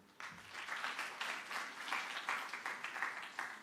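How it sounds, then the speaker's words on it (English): A crowd at a university innovation and exhibition week claps for a presenter, a full, lively burst of many hands that starts abruptly and continues evenly for several seconds. "Let's clap for him."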